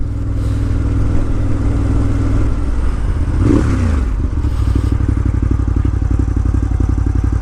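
A 2018 Ducati Monster 1200S being ridden in cold weather, its engine a loud, steady mid-pitched drone with a rhythmic pulsing, rising briefly around a gear change partway through and carrying on close and continuous to the end.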